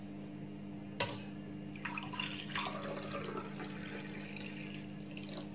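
Water poured from a cup into a cooking pot while preparing a lentil dish, a soft splashing pour starting sharply and continuing in uneven bursts over a steady low hum.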